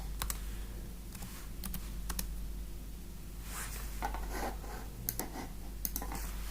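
Keys are tapped on a computer keyboard while a title is entered in desktop publishing software, coming as sparse clicks and short bursts in a quiet room with a steady low hum underneath.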